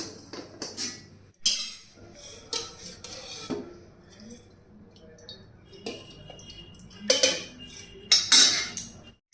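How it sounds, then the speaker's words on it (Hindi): A kadhai (wok) is set back down on a home stove with a few clanks and metal knocks, followed by quieter clinks as oil is poured in; sharp close-up kitchen clatter without speech. "तो कढ़ाई रखेंगे वापस, इसमें डालेंगे थोड़ा सा तेल।"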